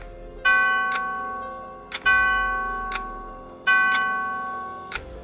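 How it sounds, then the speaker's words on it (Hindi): Three resonant chimes from an old railway station platform clock ring out at even intervals, each a bright bell-like strike with a long decaying tail, clear and fairly close. "प्लेटफॉर्म पर लगी पुरानी घड़ी ने 3 बार घंटी बजाई"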